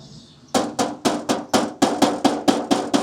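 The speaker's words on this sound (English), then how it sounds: "Tap it a couple times, guess and check. Don't always hammer it right on where the spot is" A hammer taps on metal in about ten sharp, evenly spaced strikes, each a bright, close, ringing knock that follows soon after a short quiet start.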